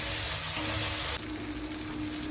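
Ground cumin, ginger and chilli paste sizzles steadily in hot oil in a wok, a dense bright crackle, close and continuous, with a slight shift in texture partway through.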